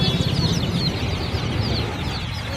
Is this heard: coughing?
no